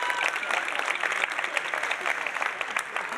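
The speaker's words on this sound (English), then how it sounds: "Give Mike a round of applause." A conference audience at a security talk gives a steady round of applause, a dense crowd clapping evenly throughout without anyone speaking.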